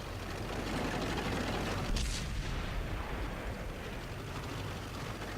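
A tank cannon fires once in the World of Tanks video game with a loud, sharp boom, then a gritty wash of battle noise and engine rumble carries on to the end.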